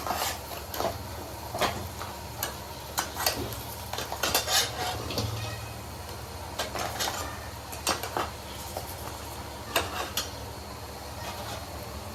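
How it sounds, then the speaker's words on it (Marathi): Ingredients are stirred in a metal pot at home, producing irregular clanks and scrapes of a utensil against the pot, some sharp and close, over a low background hum. "हे सगळं आता मिक्स करायचं आहे"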